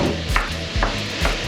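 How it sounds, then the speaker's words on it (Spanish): Minced meat tipped into a pan of soft sautéed vegetables, close stirring scrapes repeating about every half second over a low sizzle, no talking. "Es el momento de agregarle la carne picada."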